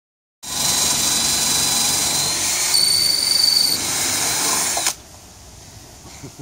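A loud power drill whirs steadily for several seconds after starting abruptly during deck removal, its pitch rising briefly mid-run before cutting off into quiet room noise.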